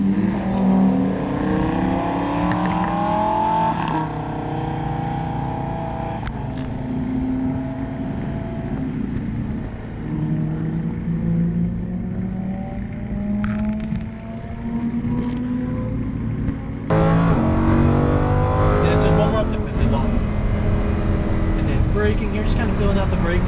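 Lamborghini Huracan lapping a race track, its engine revving and climbing steadily through the gears with downshifts under braking, loud and close throughout, while a driver talks over it.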